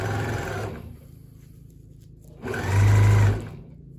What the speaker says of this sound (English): and then I will stitch across that.